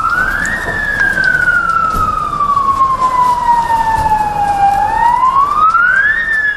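A fire engine siren wails loud and close, its pitch rising and falling in a slow continuous sweep, as the truck arrives at a car engulfed in flames.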